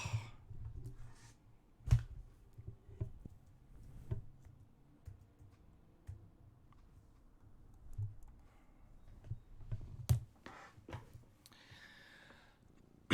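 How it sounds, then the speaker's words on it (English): Faint, scattered clicks and soft taps of a pet stepping across a computer keyboard, irregular and close, with a few louder knocks in an otherwise quiet room. "Now he's stepping on the keyboard."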